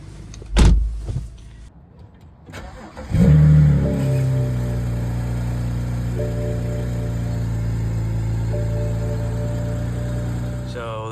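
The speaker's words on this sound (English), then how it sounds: "But you hear the turbo there." A 2009 BMW 335i starts up and settles into a steady idle, with a faint whine from its turbocharged engine running under the engine's low hum.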